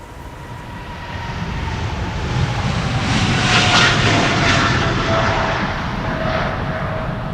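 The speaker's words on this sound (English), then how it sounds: "And after that, it is the A350-1000 from Cathay Pacific, going to Hong Kong." Cathay Pacific Airbus A350-1000 jet taking off from the Polderbaan runway at Amsterdam Schiphol during rain showers, a broad steady engine roar that swells to a peak midway and then holds, heard from a distance.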